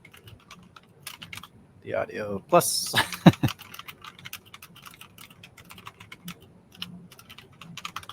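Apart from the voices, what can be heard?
typing on a computer keyboard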